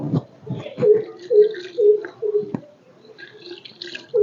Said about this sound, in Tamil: கோமியம் பார்த்தீங்கன்னா ஒரு லிட்டர் ஊற்றுறேன்